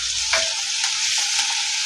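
Constant loud sizzling of onions and chillies sautéing in a hot pan, with faint stirring scrapes now and then.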